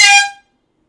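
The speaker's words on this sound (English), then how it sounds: "Air horn." A single loud air horn blast, bright and brassy, cutting off abruptly after under half a second and leaving silence.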